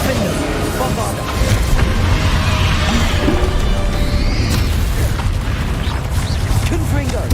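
Spell-combat explosions from Hogwarts Legacy, including the Bombarda blast, boom loudly and continuously in a dense wash of game effects while a voice calls out spell names over the din.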